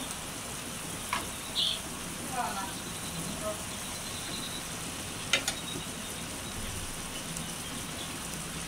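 Pangas fish head dropped into a hot pan of browned spices for a fish curry, giving a steady low sizzle with a couple of faint clinks and taps.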